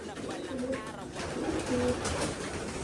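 Racing pigeons cooing in a loft, soft repeated low coos under a steady background hum, fairly close, with a voice briefly audible.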